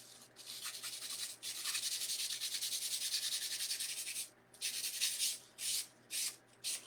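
Finish being rubbed by hand into a small wooden candy corn, giving a close, steady, hissing friction that runs continuously and then breaks into a few shorter strokes with pauses.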